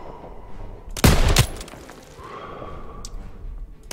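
Burst of gunfire in the World War II shooter game Call of Duty WWII, a loud rapid volley of shots lasting under half a second amid quieter battlefield ambience.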